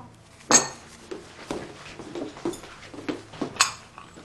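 A bowl and chopsticks are fetched at a family meal, with a few light clinks and knocks of tableware, one sharper clatter near the start and another near the end, in an otherwise quiet room.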